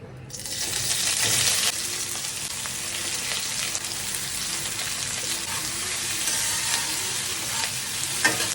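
Chopped onion, ginger, garlic, tomato and green chilli hit a preheated pan with a sudden loud sizzle, which settles into a steady close hiss of frying with occasional stirring.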